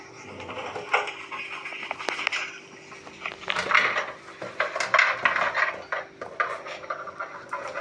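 A metal tawa is set down on a gas stove to make an egg green masala omelette: close clanks, knocks and scraping of metal on the burner grate, with no talk.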